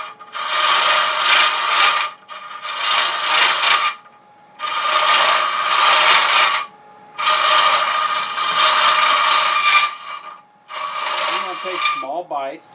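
A gouge cuts a spinning wooden hollow form on a lathe turning at about 800 rpm, in five rasping bursts separated by short pauses, close and fairly loud.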